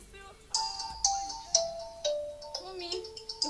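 Phone ringtone in a Nigerian movie scene: a bright electronic melody of repeated short beeping notes, rising in a rhythmic pattern about every half second, moderately quiet with faint room sound.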